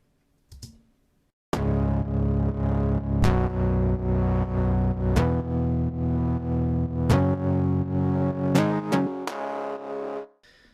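A bass synth playing alone, with no sub-heavy low end, in a steady sustained line of held notes with sharp attacks at each change; a brief blip precedes it.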